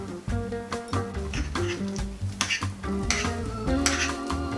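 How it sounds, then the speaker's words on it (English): Ricotta salad ingredients with oregano and white pepper being folded and smashed together in a bowl, a steady run of soft squishing and scraping strokes with occasional utensil clinks, close and alone without talk. "we're going to fold and smash those ingredients in"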